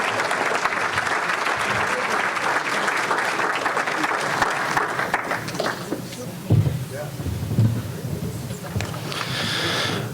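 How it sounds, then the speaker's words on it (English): Applause for a professor's presentation, a room of people clapping steadily and fairly close, thinning near the end, with a few thumps and a voice coming in over the tail. "Let's give another big round of applause to Professor Alexander Shashko for today's presentation."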